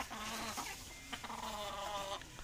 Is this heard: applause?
no